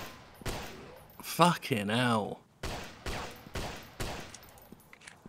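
Gunfire rings out in the Attack Of Mutants video game: several loud, sharp shots come in separate bursts, and a voice shouts in between.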